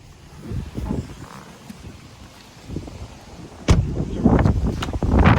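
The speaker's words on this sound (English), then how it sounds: "a little windy today" Gusty wind buffets the microphone outdoors beside a 2018 Ford Edge in low, rumbling bursts, growing louder and harsher toward the end, with no talking.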